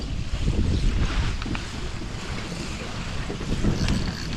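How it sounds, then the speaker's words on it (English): A motorboat passes on Lake of the Woods, its steady engine drone blending with wind buffeting the microphone and lapping water, with no one speaking. "Here comes another boat."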